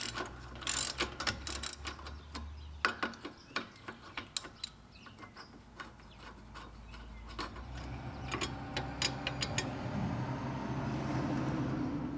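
Ratchet wrench loosening the carriage-style bolts on a Husqvarna mower drive idler pulley, a run of sharp mechanical clicks and ticks in irregular bursts, close and fairly quiet, with a low rumbling hum building toward the end.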